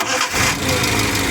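A van engine with a standard carburetor, still cold, runs close by, giving a steady mid-pitched rumble throughout with a slight surge as it catches after a brief softer start.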